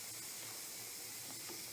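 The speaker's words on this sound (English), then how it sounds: "so I'm letting all my steam out" Steam hisses out of a hot cooking pot in a steady, broad, airy rush that stays even throughout, with no talking over it.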